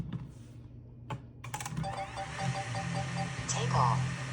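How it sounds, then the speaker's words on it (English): A DJI Mini 3 Pro drone starts after some clicks and handling, its motors building into a buzzing, whirring hum with shifting pitch, close and fairly loud. "DJI Mini 3 Pro sound."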